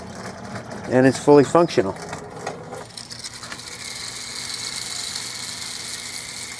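A windup tin Paya seaplane, a toy reproduction from Alicante, Spain, spins its propeller with a steady, fairly quiet mechanical whir and rattle that follows a short spoken remark.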